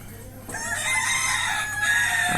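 Free-roaming desi chickens on a farm, with a rooster crowing loudly and close while hens cluck in the background, sustained over the whole stretch.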